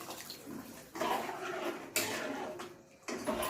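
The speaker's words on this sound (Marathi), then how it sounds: "आणि त्याच्यात गरम पाणी घालून घेऊ" Hot water pours into a kadhai of curry gravy for a Maharashtrian patvadi rassa, a steady splashing, rushing pour in three close bursts separated by brief pauses, clear and alone with no talk.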